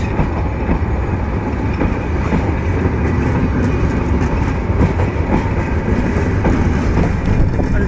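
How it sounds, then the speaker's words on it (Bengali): A Bangladesh Railway passenger train pulls out of Joydebpur station at midday, loud and steady with a continuous rumble and rhythmic clickety-clack of wheels over rail joints, no talk. "দুপুরের সময় ট্রেনটি ছেড়ে যাচ্ছে 2টা বাজে 40 মিনিট।"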